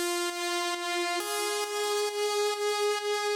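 Gated vocal chop samples from a track played on their own, a bright harmonic tone cut into short, evenly spaced rhythmic pulses with no other instruments.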